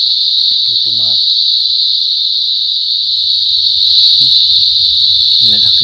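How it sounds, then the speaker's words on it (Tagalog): Crickets trill at night in a Philippine coastal area during a crab-hunting outing. The loud, unbroken high chirring fills the whole stretch, with faint murmured voices now and then underneath. "yung huni ng mga kuliglig"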